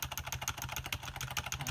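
Fast, steady typing on a computer keyboard while entering text into a text box, with dense, even key clicks running continuously and close up, no voices.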